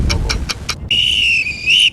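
A referee's whistle signals the end of an ice fishing competition outdoors, sounding four short pips followed by one long, loud sustained blast.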